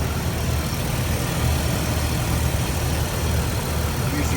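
A car engine idles smoothly and steadily, a continuous low rumble with broadband hiss held at an even level throughout, with no talk over it.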